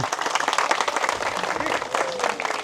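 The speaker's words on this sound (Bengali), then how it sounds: "সবাই মিলে করতালি" Audience clapping together at an outdoor cricket-style batting challenge, a dense wash of many hands clapping at once, moderately loud and continuous, with some faint crowd voices mixed in.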